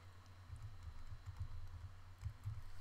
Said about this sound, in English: I want to type the word everyone